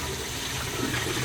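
Steady running water rinsing soil from the roots of a plant for a rice fish home, a continuous close, even splashing flow with no voices.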